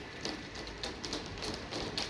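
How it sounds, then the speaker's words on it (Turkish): Rain falling in Havza, Samsun, Turkey, near the thermal springs area: a steady dense patter of drops on surfaces with scattered sharper taps, continuous and fairly close, no voices. "Havzada yağmur."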